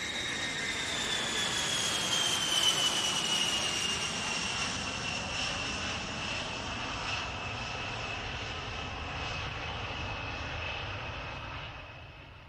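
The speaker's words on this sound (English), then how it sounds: "The B-52 is a design dating back to the 1940s that is due to stay in service for decades longer." A B-52 bomber at a British airshow makes a loud, steady jet engine roar with a rising whine, passing close and then slowly fading over about twelve seconds, with no talk.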